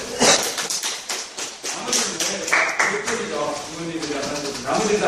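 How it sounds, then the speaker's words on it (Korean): A lecture audience at a university talk on happiness claps together, with a dense, lively patter of hands at close to moderate distance that continues steadily for several seconds. "박수 주세요."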